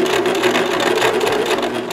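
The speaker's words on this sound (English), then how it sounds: "So as you're sewing, only just hold it and let it move by itself" A sewing machine stitches fabric in a steady, continuous hum of rapid needle strokes, close and fairly loud, running without pause and with no talking.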